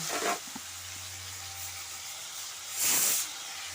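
Three large potatoes cut into small pieces hit hot oil in a pan, giving a soft steady hiss that swells into a brief, louder sizzling burst near the end.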